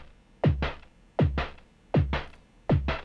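Four punchy sampled snare hits, each a snappy thump with a quick rattling tail, evenly spaced like a slow repeating beat.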